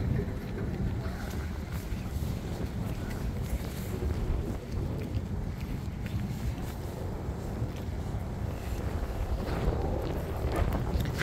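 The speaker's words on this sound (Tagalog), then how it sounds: "Grabe ang hangin. Sobrang lamig." Strong, cold wind in Washington, DC roars and buffets the microphone continuously, a dense low rumble with gusty swells and no clear speech.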